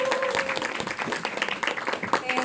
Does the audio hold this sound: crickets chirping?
no